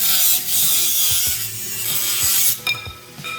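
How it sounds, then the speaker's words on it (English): A Dremel cutting through a fishing rod blank: a continuous loud high-pitched grinding hiss with small rattling knocks underneath, close and with no talk. "To cut this off, I'm gonna get my Dremel out."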